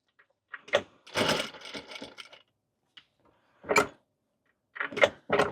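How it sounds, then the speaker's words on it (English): Home sewing machine stitching Velcro onto a witch hat, a few short, sharp bursts of mechanical chatter separated by silent gaps, close and fairly quiet. "I think my tension is a little weird on this machine sewing the Velcro on."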